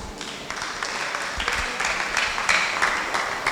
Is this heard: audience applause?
yes